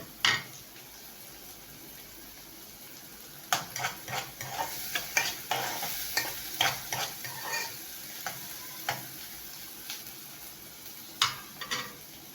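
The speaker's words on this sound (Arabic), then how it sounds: "حمرنا البصل اهو" Onions frying in a pan for an old-style fuliya dish, a steady sizzle broken by repeated scraping and stirring strokes that come in irregular bursts, close and fairly quiet, with no talking.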